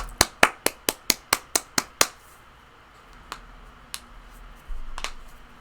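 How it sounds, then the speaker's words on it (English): A single person claps about nine evenly spaced, sharp hand claps close to the microphone, giving applause for players after a tabletop game session, followed by a few scattered taps and quiet room noise. "Can we get a big round of applause for our players?"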